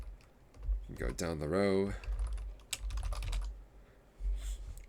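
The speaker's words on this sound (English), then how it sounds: "Basically, you can type in a whole bunch of stuff." Computer keyboard typing in a quick, irregular burst of close clicks under a voice explaining spreadsheet software, with a scattered second run of keystrokes later.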